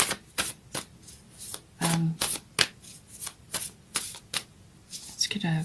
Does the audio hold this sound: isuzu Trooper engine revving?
no